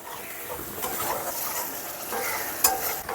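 Spice paste with salt and turmeric sizzling in oil as it is stirred for village-style fish curry, a steady soft fry with spoon scrapes and one sharp clink against the pan.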